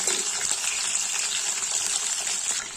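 Chicken pieces fry in hot oil in a pan, a loud, close, continuous crackling sizzle with bright spattering pops that runs unbroken throughout.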